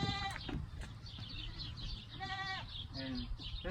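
Goats in a farm goat pen bleat several times over a steady outdoor rumble, faint and a short way off, with one early cry followed by a pair of wavering bleats later on.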